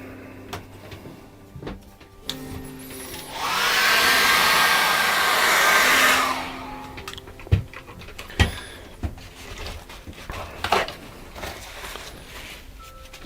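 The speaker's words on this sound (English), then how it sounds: "I'm going to dry that very quickly with a hairdryer." A handheld hair dryer blows on a wet watercolour landscape painting, a loud steady whoosh lasting about three seconds amid quiet tapping and handling noises before and after.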